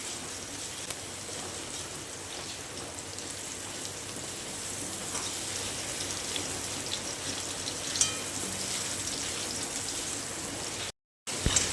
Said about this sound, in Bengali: এবার আমি ওই তেলের মধ্যে ম্যারিনেট করা কচুটা দিয়ে দিচ্ছি।